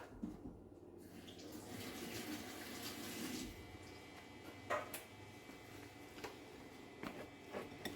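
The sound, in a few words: cold water running from a tap over hands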